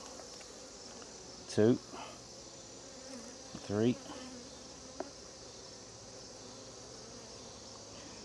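Honeybees buzzing around an open hive during an inspection, a faint steady hum with two brief louder passes as bees fly close, while a person speaks quietly.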